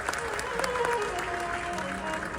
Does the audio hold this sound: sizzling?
no